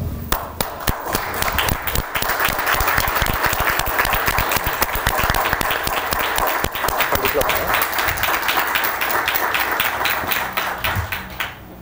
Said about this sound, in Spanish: nos pongamos de pie y le demos un aplauso al fiscalizador